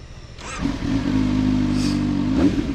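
A CFMOTO 750 SR-S four-cylinder motorcycle starts and idles, then revs smoothly with a steady rising tone, close by.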